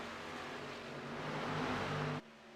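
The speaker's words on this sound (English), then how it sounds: "You can hear that pack of cars coming, thundering ahead." A pack of race cars roars closer in an ARCA Series racing video game at Charlotte, a dense, droning engine thunder that swells loud for about two seconds and then cuts off abruptly.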